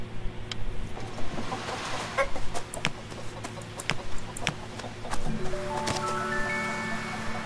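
Chickens cluck in the game Gerda: A Flame in Winter, repeated close clucks in an uneven rhythm against a steady low background hum, with no talk.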